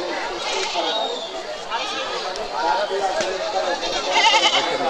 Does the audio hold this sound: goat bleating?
yes